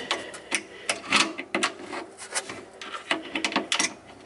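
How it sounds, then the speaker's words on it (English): A wrench works on a fitting of a Badger garbage disposal under a sink, giving close, irregular clicks, scrapes and metallic knocks in short bursts with no talking. "So perhaps I will use my wrench here. So I'll make sure this thing's tight."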